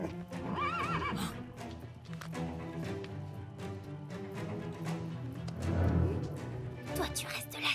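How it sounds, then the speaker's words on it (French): Horses neigh loudly and hooves clatter in the Spirit cartoon, with shrill whinnies and busy galloping across several seconds, mixed with speech and score. "Les chevaux sont sûrement terrifiés."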